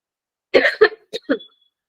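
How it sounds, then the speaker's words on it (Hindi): A short fit of coughing: two quick close coughs, then two more after a pause, with silence on either side. "खांसी मेरी वापस आ रही है फिर से।"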